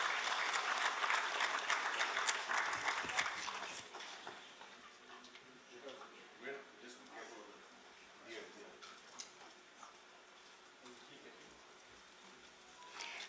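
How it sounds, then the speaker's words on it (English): Audience at a formation day ceremony of India's National Disaster Management Authority bursts into loud, dense applause that fades after about four seconds into scattered claps and faint room noise. "Let's once again put our hands together for him."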